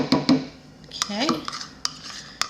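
A utensil clattering and scraping inside a container while Dole Whip ingredients are mixed, close metallic clinks in uneven bursts with a few ringing knocks.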